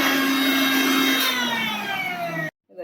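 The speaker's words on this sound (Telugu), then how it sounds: "ఇప్పుడు మిక్సీకి కొడదాం. మనం ఇది మెత్తగా పొడి చేసుకోవాలి." A mixer grinder grinding dry spices to powder without water whirs at high speed for a couple of seconds, its pitch slowly dropping, then cuts off abruptly.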